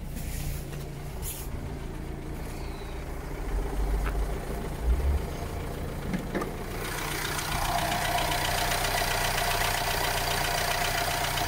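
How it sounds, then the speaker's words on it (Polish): Renault Trafic van with a 1.6 dCi turbo diesel engine idling, a steady low diesel rumble with some knocking texture. It grows brighter and louder partway through, as if heard closer to the engine bay, and no voices are heard. "Jeden sześć diesel, turbina. Chodzi bardzo ładnie."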